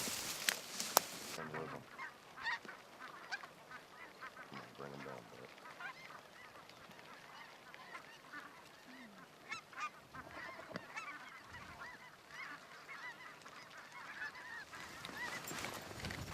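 A flock of geese honks repeatedly from a distance during a goose hunt over decoys, calls overlapping and growing busier as the birds approach, over a soft outdoor background.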